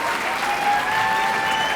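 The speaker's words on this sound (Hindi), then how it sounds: "तो आइए इन दोनों के लिए जोरदार तालियां बजाते हैं" A wedding-themed audience in a drama scene breaks into loud, continuous applause, a dense wash of clapping that holds steady throughout.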